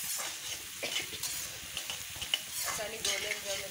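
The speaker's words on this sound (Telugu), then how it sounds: "ఆనియన్స్ వేగాయి కదా" Onions frying in oil or ghee until golden brown, a soft crackling sizzle with intermittent stirring scrapes and clinks, fairly quiet and close.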